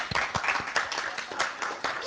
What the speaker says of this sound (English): how come there's no applause for the women? Come on.